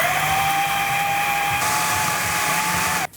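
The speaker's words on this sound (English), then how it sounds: "we're going to add that all into the mixer and whiz it up until it's nice and crumbly" A kitchen mixer whizzes oats and syrup into a crumbly base for a berry chia coconut slice, giving a steady high whirring drone for about three seconds before stopping suddenly.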